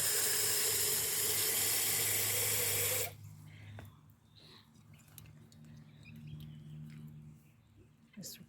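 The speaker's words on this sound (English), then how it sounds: "Just rinse out this jar a little bit." Tap water runs steadily into a glass jar being rinsed out at a sink, a loud broad rush that cuts off abruptly after about three seconds, leaving quiet room sound with faint clinks.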